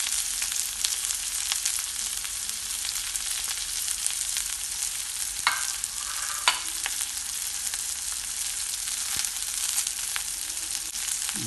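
Shallots and bird's eye chilies fry in hot oil for verumbuli, giving a steady, close, even sizzle that holds for the whole stretch, with a few soft stirring knocks partway through.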